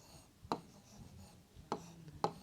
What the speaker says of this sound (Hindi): तो मैं इसको यहाँ लिख देती हूँ